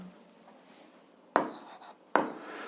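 Chalk or marker strokes on a board during an algebra lesson, two short scraping bursts standing out close and clear over a quiet room with no talk.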